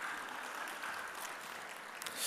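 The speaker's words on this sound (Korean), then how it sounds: "우리 다시 한번 아름다운 가정을 위해서 우리 또 박수 부탁드립니다" A church congregation applauds a couple's wedding announcement in a steady, dense patter of many hands, heard at moderate distance for a couple of seconds with no speech over it.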